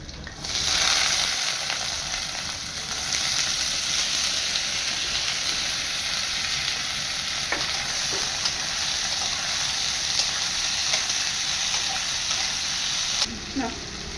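Potatoes fry in spattering oil for aloo posto, a loud sustained sizzle and hiss with occasional stirring knocks, a sharp burst near the start and a brief clatter near the end, no talking.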